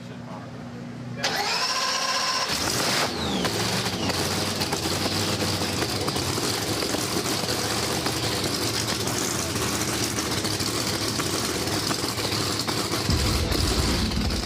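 A supercharged drag racing car engine starting with a brief starter whine and catching into a loud, steady rough idle that runs on.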